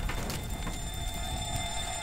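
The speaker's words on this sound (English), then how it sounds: "There's a bunch of alarms going off." Several alarms going off together in the video game Teardown after a village explosion, steady electronic tones with a faint beeping and ringing layered over rumbling debris noise.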